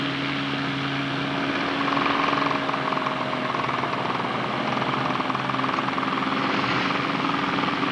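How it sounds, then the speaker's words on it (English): Small light aircraft, including a Kitfox, drone steadily close by, a continuous propeller-engine hum with a constant tone and no speech over it. "Too many planes today."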